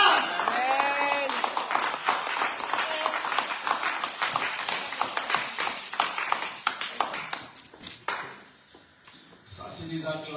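Church congregation acclaiming with sustained clapping and cheering, a dense loud wash of claps and voices that thins out toward the end, with a voice briefly heard at the close.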